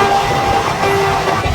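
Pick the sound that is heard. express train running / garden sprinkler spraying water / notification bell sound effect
express train running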